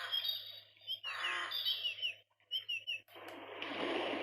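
Forest ambience played as an alarm sound setting: bright, chirping birdsong in short overlapping bursts with brief pauses, a faint low hum underneath and soft rustling texture toward the end.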